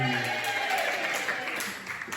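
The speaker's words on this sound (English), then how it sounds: "another round of applause for croydebay, please" Audience applause during a live storytelling performance, a steady wash of clapping and cheering noise lasting throughout, fairly close and dense with no clear gaps.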